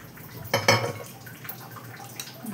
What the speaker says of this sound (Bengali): গুঁড়ো দুধটাতে এবারে আমি একটু জল দেব